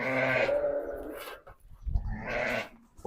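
Sheep at a livestock trade bleat in two loud, close, wavering calls, with a short quiet gap between them and no one speaking.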